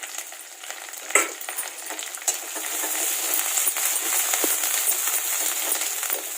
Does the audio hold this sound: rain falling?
no